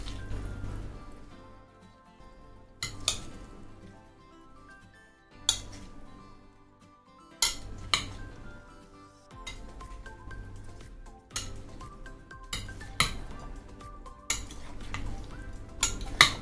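A spoon mixes fruit salad with honey in a bowl, clinking and scraping against the sides in a loose, uneven rhythm, close up with quiet gaps between strokes and no voices.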